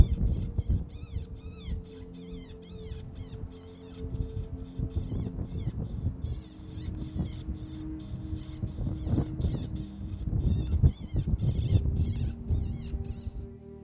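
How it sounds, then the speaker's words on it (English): A predator call plays a baby cottontail rabbit distress sound outdoors in the Kansas heat, a string of rapid, high, shrill squealing cries repeated in bursts over a low rumbling background. "I'm playing baby cottontail demise."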